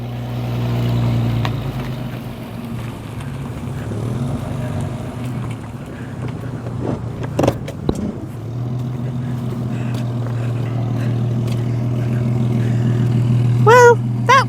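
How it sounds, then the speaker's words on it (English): A car's engine drones steadily as it pulls away during a December storm while camping, with wind buffeting the microphone and a brief surge as the wheels spin, followed by a high whining rise near the end. "We got a little bit of wheel spin."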